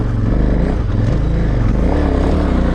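A KTM LC8 V-Twin 990 motorcycle labors up a steep hill in first gear, its deep, loud, steady engine note throbbing close by with a slight rise and fall in revs and no talk.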